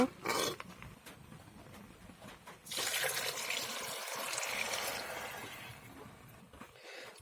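Water is poured into a pan of frying vegetables for kesuri, a brief splash followed by a loud, rushing hiss and bubbling that swells up close and slowly fades, with no talking.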